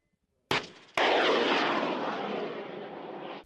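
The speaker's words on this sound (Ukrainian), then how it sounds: "Наступною на полігоні стрільба проводиться з переносного зенітно-ракетного комплексу Ігла." A shoulder-fired Igla portable anti-aircraft missile system launches on a military firing range: a sharp launch crack, then a second loud blast as the missile motor ignites, followed by a sustained roaring hiss that slowly fades.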